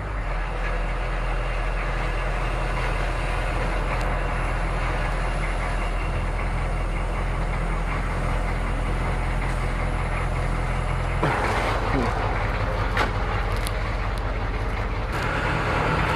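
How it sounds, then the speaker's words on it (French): A Humvee fitted with huge new rims and oversized tires rumbles along a road with a loud, steady, deep engine and road drone, shifting tone near the end with brief rattles. "Allez c'est parti, le tank est démarré. Donc là maintenant on va aller tester ça."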